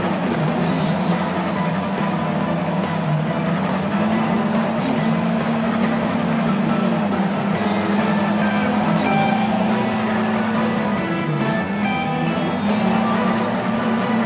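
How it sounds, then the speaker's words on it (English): A car drifts in the Disney Infinity 3.0 video game, its engine droning loudly and continuously with tire squeal and skidding layered over game music through the whole stretch. "Learn to drift while you're driving. Drifting will improve your ability to steer and generate turbo."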